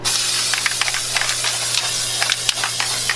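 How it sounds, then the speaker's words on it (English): Aerosol spray paint hisses in short bursts for a hydro dip on a laptop, several quick sprays over a steady background with a low hum. "Spray more."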